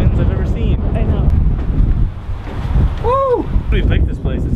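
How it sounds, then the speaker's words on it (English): Very strong wind batters the microphone at Cape Hatteras, a loud continuous roar and buffeting on the coast with ocean surf, and people talk briefly over it. "Very windy. This is some of the highest winds I've ever seen."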